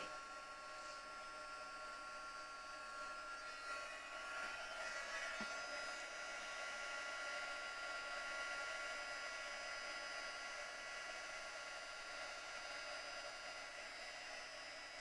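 A handheld heat tool blows a steady, fairly quiet whirring hiss while heat-setting embossing powder on a Christmas craft project, running continuously throughout with no voices.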